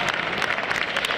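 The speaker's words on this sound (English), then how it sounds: "It's worth a round of applause there." A brief burst of clapping from a small crowd right after the end of a game, steady and fairly close.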